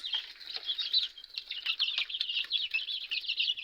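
A flock of young chicks pecks at scattered corn, making a constant, busy chatter of high peeping and chirping calls close by, with some flutter and scuffling mixed in.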